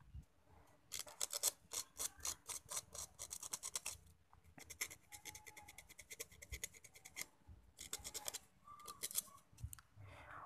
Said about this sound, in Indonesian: kita coba bersihkan menggunakan amplas